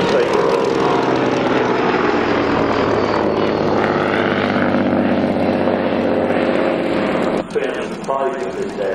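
Hawker Demon biplane, a single-engine propeller aircraft, flying past overhead at an air display, giving a loud, steady droning engine roar that fills the whole stretch and eases slightly toward the end.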